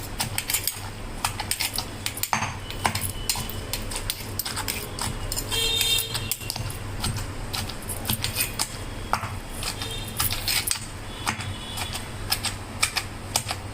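Citron fruit is pounded with its peel for a pickle, giving rapid, irregular sharp knocks and taps that run continuously at close range.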